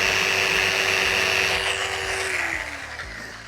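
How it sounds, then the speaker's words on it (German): A power tool grinds the edge of cut glass, a steady loud whirring drone with a constant pitch that holds for about two seconds, then drops as the motor slows and the sound fades slightly toward the end. "Wenn ihr das Glas schleift, tragt am besten eine Schutzbrille"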